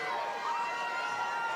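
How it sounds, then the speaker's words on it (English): Spectators cheering for a racer at a buggy race, a steady, dense crowd roar with no individual voices standing out, sustained and fairly loud throughout. "Lots of cheering for Mary up here"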